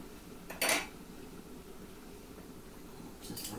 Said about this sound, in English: I like my handy big silver spoons for dishing things up